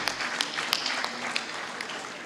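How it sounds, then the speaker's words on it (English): Audience at a closing ceremony giving a round of applause, a fairly faint, steady patter of many hands clapping with a few sharper individual claps standing out. "another round of applause for His Excellency Bakabe Mahamadou"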